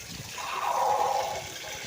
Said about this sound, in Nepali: सर्वप्रथम त म चिकनलाई राम्रोसँग पखाल्छु